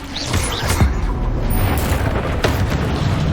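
Confringo fire spell explosions from the game Hogwarts Legacy, a dense, loud run of booming bursts and crackling impacts with sharp hits near the start and midway, layered over continuous rumbling game effects.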